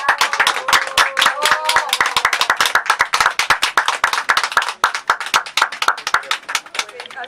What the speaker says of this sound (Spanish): Por favor, les pido un fuerte aplauso.